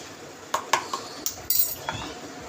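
A metal spoon clinks sharply against a cup or bowl while Cadbury powder is added, about half a dozen bright separate taps over a couple of seconds, close and clear with no talk.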